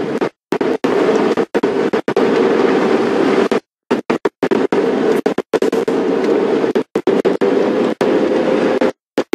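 Heavy wind buffeting a microphone, with loud rumbling gusts broken by abrupt dropouts into near silence, repeating irregularly throughout.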